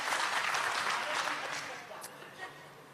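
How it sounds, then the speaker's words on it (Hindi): Applause from an audience at a Hindi Divas poetry gathering (kavi sammelan) in Bhopal, a dense crowd clatter that fades over a few seconds with a voice faintly over it. "ताली बजा दीजिए"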